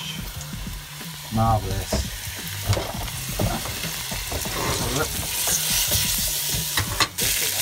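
Chunks of floured veal dropped into very hot oil sizzle and spit loudly and steadily, with stirring clatter and someone talking briefly over the frying.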